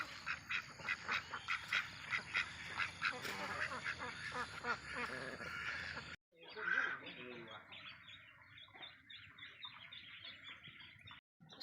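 Many ducks quack and chatter together in a noisy flock on a duck breeding farm, with a voice talking over them partway through.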